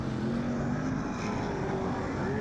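Race car engine noise, steady and loud, as a speedway car slides very loose through turns two and three at a Blenheim track, a continuous engine drone with no pauses.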